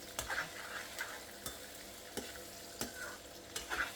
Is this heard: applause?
no